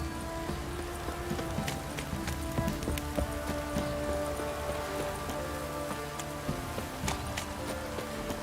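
Heavy downpour in The Witcher 3 video game, steady rain patter with scattered sharp drips and a faint rhythmic clopping of a horse underneath.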